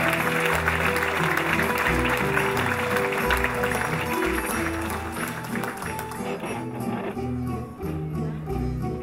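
Audience applause for a fado singer from São Miguel island at a fadistas gathering on Faial, a dense, steady clapping that tapers slightly toward the end, with music or voices faintly mixed in.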